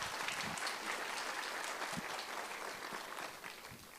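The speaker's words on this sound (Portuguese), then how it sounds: "Uma salva de palmas." An audience at the national Pietro Ubaldi congress applauds steadily before a lecture, a dense, even clatter of clapping that holds for about four seconds and fades slightly toward the end.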